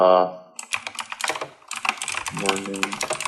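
Rapid clicking keystrokes on a computer keyboard, close and irregular, in bursts across the clip, with a voice briefly speaking at the start and overlapping the typing.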